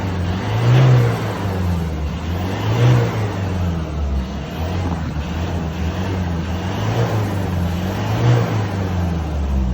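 A Ford 2.2 diesel engine with faulty, unevenly spraying injectors idles up close, a low steady rumble with a rhythmic swell and dip every couple of seconds, no speech.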